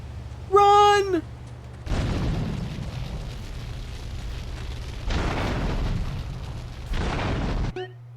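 A grenade blowing up in GTA 3, heard as a series of long roaring explosion bursts after a short rising electronic tone, with brief pauses between the blasts and no talking.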